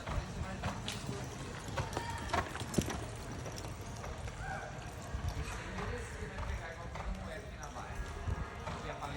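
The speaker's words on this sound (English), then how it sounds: "Boo-Hoo Lolly is a horse of Waldorf, Maryland." Hooves clop rhythmically as a horse makes a timed run at a horse-riding competition, while an announcer talks over a loudspeaker amid crowd noise.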